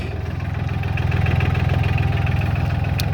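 A Solis 26 Extra tractor's diesel engine idles steadily nearby, with a low, even, pulsing rumble and no speech.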